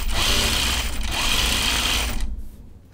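A sewing machine stitches a tea house dress in two fast, continuous whirring runs separated by a brief pause, then stops, leaving quiet room noise.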